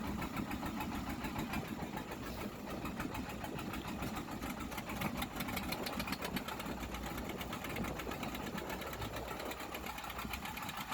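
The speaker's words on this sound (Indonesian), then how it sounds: "Jadi kita setar lagi mesin yang satunya lur." A fishing boat engine runs steadily during net trawling at sea, a rapid, even mechanical chugging that continues unchanged at moderate loudness with no talk.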